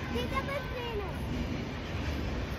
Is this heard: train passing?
yes